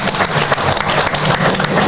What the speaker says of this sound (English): how about a big round of applause for Rick and Liz Green?